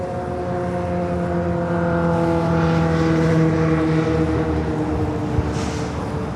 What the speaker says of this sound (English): We also have a United Dreamliner heading to London Heathrow.